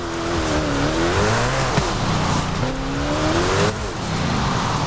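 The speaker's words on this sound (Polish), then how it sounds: "To właściwie bardziej takie ślizganie niż driftowanie, wydaje mi się." A car drifting in the video game Forza Horizon 5, held in second gear with light throttle: a loud, continuous engine drone rising and falling in pitch, with tire squeal and sliding noise throughout, no voices.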